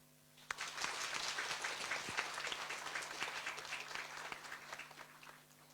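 An audience applauds at an award ceremony held by a social welfare council that helps disabled and bedridden patients. Brisk, sustained clapping starts abruptly and carries on at an even level over a low electrical hum.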